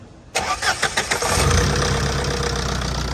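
A Tata diesel truck engine cranks with several quick, rough bursts, then catches and settles into a steady, loud idle that rumbles on to the end.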